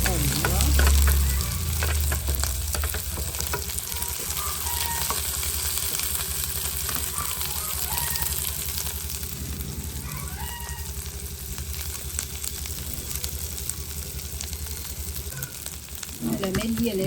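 Mustard seeds, dried chilies, onion and curry leaves fry in hot oil for a Tamil bottle gourd dhal curry, a continuous close sizzle with light stirring and clinks against the pan.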